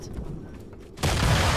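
A grenade explodes in the video game Fortnite: a low, muffled murmur gives way to a sudden, loud blast of broad noise that holds to the end.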